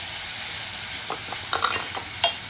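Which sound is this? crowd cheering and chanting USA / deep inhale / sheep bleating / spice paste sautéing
spice paste sautéing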